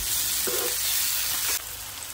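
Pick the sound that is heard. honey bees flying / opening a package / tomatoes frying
tomatoes frying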